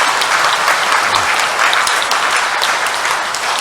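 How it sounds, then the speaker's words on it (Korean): A church congregation at a Mass for the Feast of the Assumption gives welcoming applause, loud continuous clapping from many hands filling the room evenly throughout. "이쪽에 우리 환영의 박수를 보내겠습니다"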